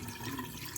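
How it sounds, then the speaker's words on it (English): Starchy rinse water from rice being poured off, a steady, close splashing and gurgling pour that runs through the whole short moment with no talk. "You want to pour that starch off."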